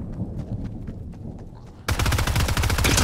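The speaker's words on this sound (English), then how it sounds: "Who's shooting me?" Automatic gunfire in Fortnite starts abruptly partway through, a loud, rapid rattling burst that continues to the end after a quieter stretch of scattered faint taps.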